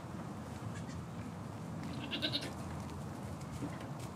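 Baby goats bleat softly on a farm amid a steady background hum, with a few thin higher cries rising in the middle of the stretch.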